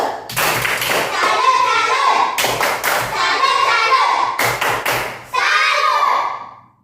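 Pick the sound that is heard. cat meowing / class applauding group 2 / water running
class applauding group 2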